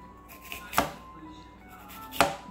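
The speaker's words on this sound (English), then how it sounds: "Continue with the onion. You also want to cut it very tiny, thin slices." A knife slices an onion into thin pieces on a board, giving two sharp, close chopping knocks spaced well apart over a faint background hum.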